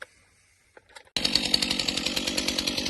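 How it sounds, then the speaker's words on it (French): After a brief clatter and near silence, a STIHL MS 260 chainsaw restarts, roaring into life and running loudly with a steady, pulsing buzz. "on redémarre la tronçonneuse et on attaque ça"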